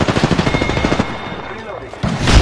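Rapid automatic gunfire in the Apex Legends battle royale shooter, a loud burst of close shots in quick rhythm that fades out before another loud blast near the end, with game voice callouts mixed in.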